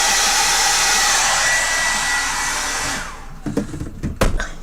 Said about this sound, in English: it's a really loud dryer because it's going through the bath microphone